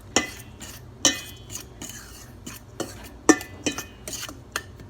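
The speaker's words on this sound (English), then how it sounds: "Just combining all the dry ingredients together." A utensil stirs dry ingredients for white bread dough in a bowl, giving a steady series of scraping taps and clinks roughly once a second, close and moderately quiet, with no voices.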